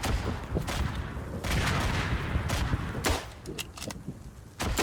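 Enemy artillery fire in the World War I shooter Verdun, a dense chaotic barrage of booming blasts and rattling gunfire that carries on without letup, with distant shouts mixed in.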